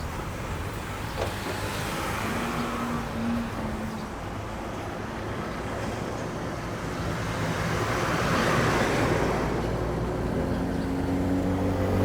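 A Bangkok village minibus rumbles and slows as it pulls up at a roadside bus shelter, a steady close engine drone under broad traffic noise that swells slightly near the end, with no talking.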